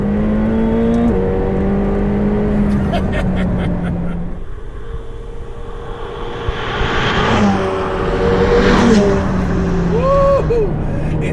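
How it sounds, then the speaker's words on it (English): A McLaren 720S engine accelerating hard, its revs climbing in loud, sweeping pitch rises that break off at gear changes and then build again, with a person talking over the interior roar. "The engine, you need to spin it up"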